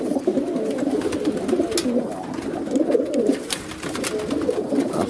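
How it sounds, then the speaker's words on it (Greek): Pigeons coo steadily and close by in a loft of racing or show birds, with the layered, rolling coos continuing throughout without pause. "Αυτά λοιπόν τα περιστέρια που είδαμε"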